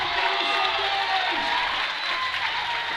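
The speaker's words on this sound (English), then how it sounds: "Let's get some clapping going." A crowd applauds and cheers continuously in an indoor hall at a raw powerlifting national championship, a dense, loud wash of clapping that holds steady throughout.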